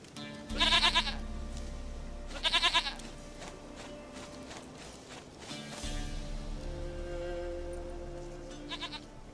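A goat in The Witcher 3 gives three loud, nasal bleats, two early and one at the end, with creaking and quieter ambient game sounds in between.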